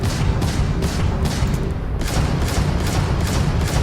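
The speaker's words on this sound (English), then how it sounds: "It's the laser cannons." Rapid laser cannon bursts from a spaceship in Starfield, a dense run of loud repeated blasts in steady rhythm, close and continuous with a brief pause midway.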